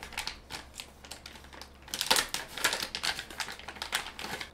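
A resealable plastic bag package holding a Nintendo Wii HDMI converter is pulled open, making a quiet run of quick clicking crackles close to the microphone, with the clicks growing denser midway.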